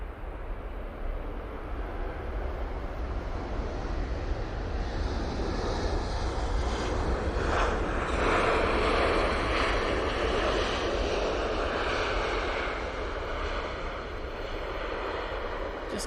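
A TUI airliner departs along the runway in the background, its jet engines giving a steady, fairly distant broadband roar that swells slightly midway, mixed with wind and outdoor ambience.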